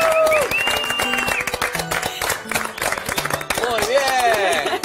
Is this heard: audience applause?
yes